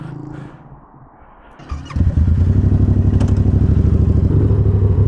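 A Grom motorcycle engine starts up and settles into a loud, close, rhythmic revving thrum as the rider prepares to attempt wheelies in a small lot.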